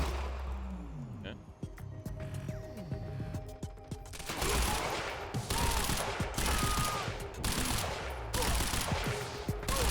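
Rapid volleys of gunfire from the video game Quantum Break, fired through a wall, break out loudly about halfway through and keep rattling in dense bursts over a busy game soundscape.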